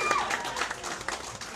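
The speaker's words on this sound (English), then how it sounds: "Give yourselves a round of applause for that." Meeting audience applauding together, a steady wash of clapping from many hands filling the room with no pauses.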